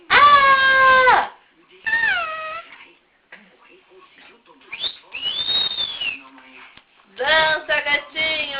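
A kitten meows repeatedly indoors, several loud, drawn-out harmonic cries spaced by short pauses, some rising and some falling in pitch.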